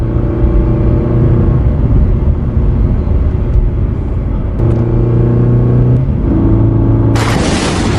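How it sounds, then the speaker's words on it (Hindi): A car arriving in a village as a narrated-story sound effect: a loud, continuous low engine rumble with shifting tones, ending in a brighter burst of noise. "तभी एक व्यापारी अपनी गाड़ी से गांव में आ जाता है।"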